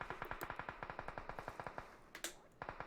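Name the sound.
gunfire in video game PUBG Mobile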